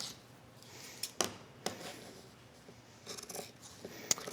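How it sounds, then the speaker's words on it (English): Scissors snip through a 10-inch fabric circle for a drawstring makeup bag, giving a few sparse, quiet cuts spread out with pauses between them and no talking. "we're cutting our 10-inch circle"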